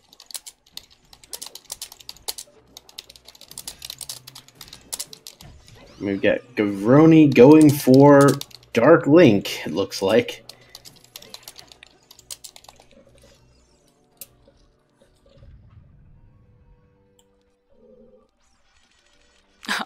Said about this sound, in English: I'm sorry that my mic is picking up my keyboarding as I try to arrange our interviews